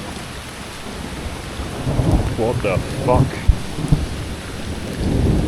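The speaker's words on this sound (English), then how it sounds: "Some insane thunder going on there" A thunderstorm in Medellín brings long, loud rolling thunder over steady rain, while a man briefly exclaims partway through.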